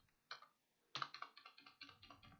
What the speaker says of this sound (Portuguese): Eu estou digitando aqui todas as teclas aqui para testar